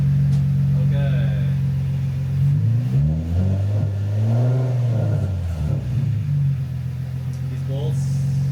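Engine of a 2004 Infiniti G35 Coupe rising and falling through a rev, a steady low drone swelling to a higher pitch mid-clip then settling back, close and loud.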